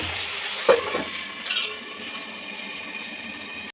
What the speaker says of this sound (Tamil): அந்த பழத்தையும் போட்டு நல்லா இந்த மாதிரி ஃபுல்லாக வதங்க விடுங்க